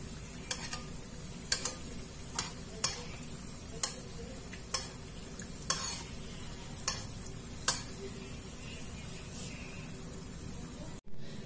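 Sfenj, Arab-style doughnuts, frying in hot oil with a continuous soft sizzle, punctuated by a regular series of sharp clicks or taps about once a second, ending with a brief loud knock.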